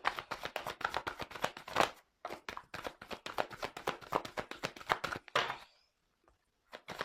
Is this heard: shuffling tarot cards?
yes